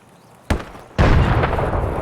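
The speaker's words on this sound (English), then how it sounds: "Oh, those are grenades in dorms." Grenade explosions in the shooter game Escape from Tarkov, a sharp blast followed half a second later by a louder, longer detonation with a rumbling tail, heard from a distance indoors.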